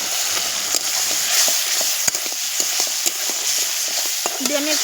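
Spices for a village-style katla fish kalia sizzle steadily in hot oil in a pan while a spatula scrapes and stirs them at irregular intervals, loud and close with no talking.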